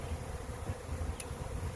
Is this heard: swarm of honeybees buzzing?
yes